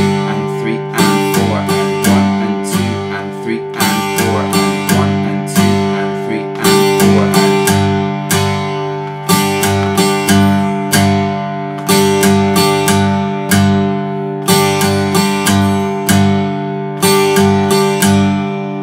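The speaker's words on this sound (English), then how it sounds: "So if I do it slowly, it's going to sound like this." Acoustic guitar strummed slowly in an even pattern of down and up strokes, each strum ringing out clearly and close, repeating steadily for several bars with no voice over it.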